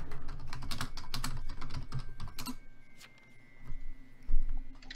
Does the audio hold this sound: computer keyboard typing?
yes